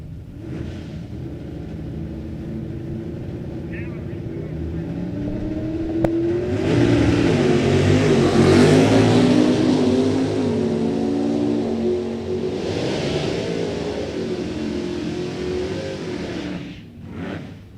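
A 2004 S10 and a 1967 Camaro launch side by side at a drag race, a loud roaring rumble building after a short idle and holding strong for several seconds before cutting off.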